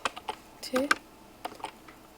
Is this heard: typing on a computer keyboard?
yes